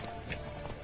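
Horse hooves clip-clop in The Witcher 3 video game, a steady run of close hoofbeats over a dense background of game sound with no clear speech.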